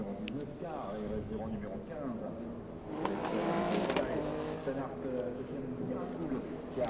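A Renault Sport Trophy race car laps the Paul Ricard circuit during a race, its engine droning steadily and swelling as it passes, heard under a commentator's continuous talk.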